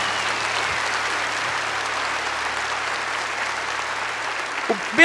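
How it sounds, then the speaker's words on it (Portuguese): Congregation applauding during Catholic mass, a broad, steady wash of many hands clapping that fills the room at moderate volume, with a faint low hum beneath and a brief voice near the end. "Vamos aplaudir os irmãos evangélicos que estão assistindo."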